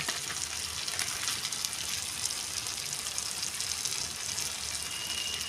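Spices with turmeric, salt and coriander powder sizzle in a pan for aloo dum, a steady close hiss of frying throughout with no voices.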